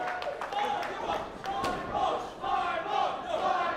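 Arena crowd at a tag team wrestling match roars and cheers steadily, swelling in waves throughout with a dense, continuous mass of voices and no clear single talker.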